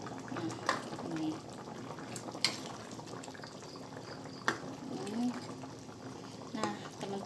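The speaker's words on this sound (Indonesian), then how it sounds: "jadi ini aku rebus aja kayak buat gulai" Tofu and tauco simmer in a pot for gulai, giving a soft, continuous bubbling with faint clinks and pops, heard fairly close with some low background noise.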